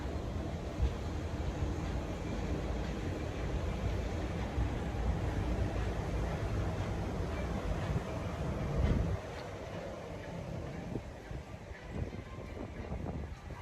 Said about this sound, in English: Look, even got a monorail in the background.